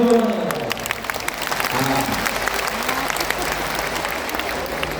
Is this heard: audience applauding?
yes